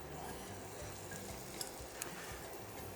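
Trinidadian doubles dough sizzles steadily in hot frying oil, a soft, even crackle from close by with a couple of brief clinks and no speech.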